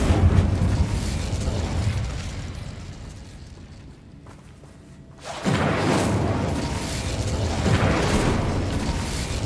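A Bombarda spell blast in the video game Hogwarts Legacy booms loudly during combat, fades into a brief lull, then a second heavy explosion erupts and rumbles on.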